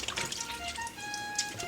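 Running water from a tap splashes steadily over raw fish being washed in a sink for Jamaican escovitch fish, a continuous close wash with faint droplet detail and no talk.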